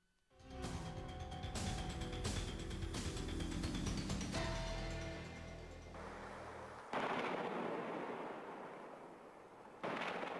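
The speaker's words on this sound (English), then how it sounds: "Continuous gunfire echoing in the Syrian city of Deir ez-Zor on this YouTube video" Continuous gunfire in the Syrian city of Deir ez-Zor: dense, rapid volleys and heavier booms that echo and run together into a sustained, rattling roar with no pauses.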